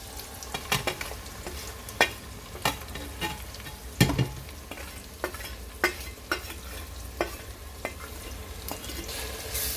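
Masala with ginger garlic paste, coconut and fried onions is stirred in a pan under a soft sizzle, with about a dozen sharp spoon knocks and scrapes at an uneven pace, close and alone.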